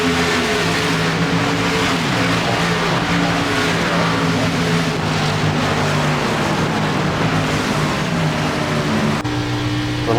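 NASCAR Xfinity race car engines in iRacing at Charlotte, a dense continuous drone of several engines with steady harmonic tones, loud and unbroken for the whole stretch.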